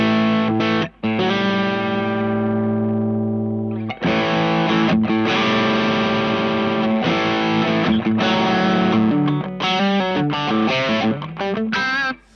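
An electric guitar through the IK Multimedia X-Drive distortion plugin, with EQ set before the gain stage, plays sustained chords and then choppier riffs, loud and saturated, with brief cut-offs between phrases.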